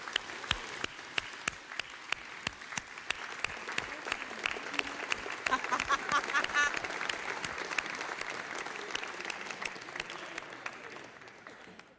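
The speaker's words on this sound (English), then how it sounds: "And a special round of applause for him." Sustained applause from an audience at a university awards ceremony, honoring a distinguished professor emeritus at the Loyola Medal event; fairly distant, even clapping continues throughout, swelling slightly midway.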